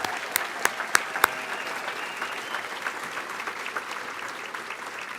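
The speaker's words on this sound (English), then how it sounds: "Let's give them a huge round of applause." Diners at a school athletic hall of fame induction gala applaud, a few loud close claps at the start giving way to a sustained, even wash of crowd clapping that fades slightly.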